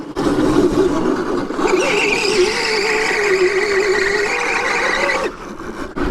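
A Razor Crazy Cart fitted with custom RDelta casters drifts sideways uphill, its small electric motor whining steadily under a long, loud tire scrub and squeal that cuts off abruptly near the end.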